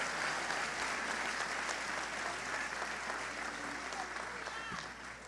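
Applause from a church congregation at a Portuguese-language worship service, a steady dense wash of clapping that holds at even loudness for several seconds, with voices faintly mixed in beneath it.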